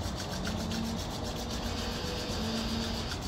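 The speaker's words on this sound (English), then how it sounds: "Begin to rub your palms together and create some friction." Palms rubbed together during a stretching fitness class make a steady, close, dry swishing friction sound, continuous and even for the whole stretch with no talking, over a faint low hum.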